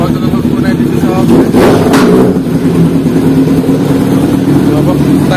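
A car engine runs close by with a steady low drone and a brief rev partway through, heard beneath people talking.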